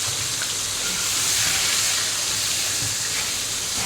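Diced potatoes frying in hot oil for a chicken curry, a loud, steady, close hiss of sizzling that holds unbroken throughout with no voices.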